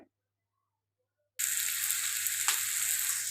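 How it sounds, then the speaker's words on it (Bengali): After a moment of silence, shrimp hit a hot pan and start a steady close sizzle that keeps going with a brief louder spatter partway through. "চিংড়ি মাছ ভাজতেছি"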